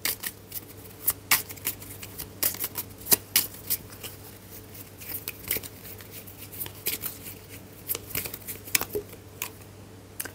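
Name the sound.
shuffling oracle cards for a reading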